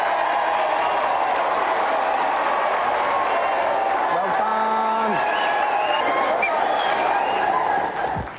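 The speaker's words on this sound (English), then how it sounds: "Let's have a round of applause for both of our contestants." Studio audience on a Gladiators-themed game show clapping and cheering for two contestants after a final, steady crowd noise throughout with a voice speaking over it partway.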